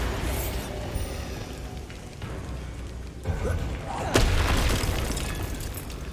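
A Bombarda blasting spell goes off in Hogwarts Legacy amid a fight with Inferi, a booming burst landing around the middle over a constant rumbling, noisy battle backdrop.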